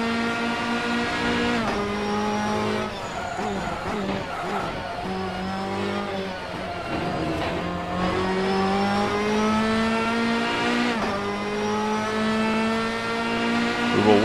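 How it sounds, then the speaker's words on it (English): Race car engine from the Assetto Corsa video game at the Nordschleife, a steady loud rising and falling drone with shifting revs and gear changes, echoing off the walls without talk. "Love those exterior sounds. You can hear those bouncing off the walls here at Nordschleife."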